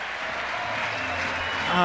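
A crowd cheers and applauds at a climbing boulder World Cup final in Meiringen, a dense sustained roar that swells toward the end, with a commentator talking over it.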